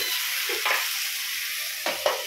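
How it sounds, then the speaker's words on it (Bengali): Potatoes tossed into frying chicken for a dry chicken dish and stirred, a brief close sizzle with a couple of soft scraping stirs. "আর এর মধ্যে আলুগুলো দিয়ে দেবো।"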